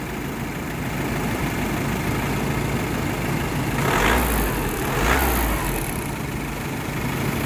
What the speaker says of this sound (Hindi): चालू करके देखते हैं इसका इंसुलेशन इंजन नॉइज कितना है।